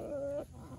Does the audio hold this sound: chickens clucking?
yes